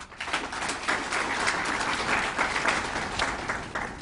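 Audience applause at a bank's full-year financial results event, a steady wash of many hands clapping together for the full four seconds at an even, moderately loud level.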